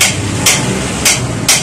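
Three sharp hammer taps struck under a bicycle steering cone to seat its bearings, evenly spaced about half a second apart, close and loud with no voices.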